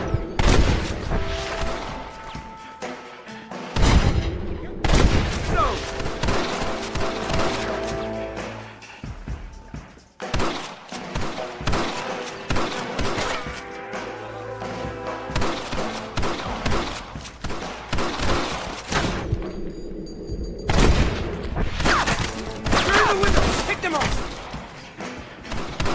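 A Red Dead Redemption shootout erupts in dense volleys of gunfire, with loud overlapping shots and heavy booming bursts that pause briefly before resuming, and voices mixed in among the shots.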